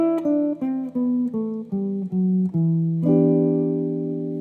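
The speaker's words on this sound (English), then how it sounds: "rather than the natural minor scale, which would sound like this" Jazz guitar plays the E natural minor scale as a run of eight clearly plucked notes, evenly spaced, the last one ringing out and fading, clean and close with no talking.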